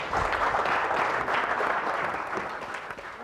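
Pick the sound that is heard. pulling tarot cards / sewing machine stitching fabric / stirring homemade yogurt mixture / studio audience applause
studio audience applause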